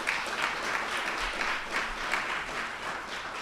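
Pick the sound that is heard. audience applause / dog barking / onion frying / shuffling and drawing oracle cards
audience applause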